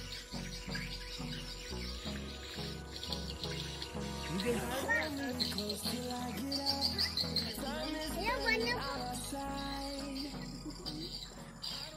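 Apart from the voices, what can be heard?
swiftlets calling inside a swiftlet bird house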